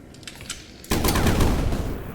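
Rapid rocket launcher fire in the Sandustry video game, starting abruptly after a quieter stretch of light tapping and continuing as a loud, dense burst of repeated shots.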